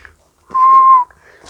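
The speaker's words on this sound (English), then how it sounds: "the spookfowl. The reason they are called that is because of their fairly haunting sounding call." Spookfowl giving one eerie, haunting call: a single sustained whistled note of about half a second, clear and fairly close against a quiet outdoor background.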